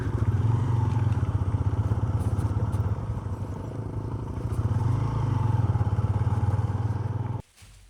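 A motorbike rides over wet, smooth round stones on the way to Ranikot Fort in Jamshoro, Sindh. Its engine rumbles loudly and steadily with rattling clatter throughout, then cuts off abruptly just before the end.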